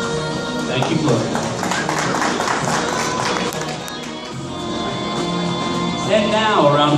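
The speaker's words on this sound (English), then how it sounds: "applause for Gloria." Audience applause at a fashion show, a steady crowd clatter of clapping under an announcer's voice, continuing for several seconds before fading slightly and swelling again near the end.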